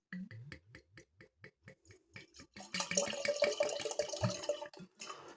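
A series of soft rhythmic sloshes as a wine glass is rinsed, then a steady stream of running water splashing into the glass, close and fairly loud.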